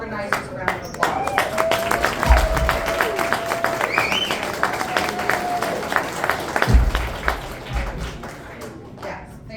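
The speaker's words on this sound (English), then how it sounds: "Let's give all of our organizers a round of applause." An audience claps for event organizers, steady applause running the whole stretch with scattered louder claps, a whistle-like tone and some crowd voices mixed in.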